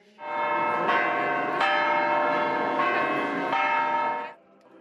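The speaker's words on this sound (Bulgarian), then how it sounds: "Камбаните на столичните храмове огласиха София." Church bells of the capital's temples peal across Sofia on a commemorative occasion, a loud, continuous ringing with overlapping tolling strokes that sustains for about four seconds before cutting off, with no talk.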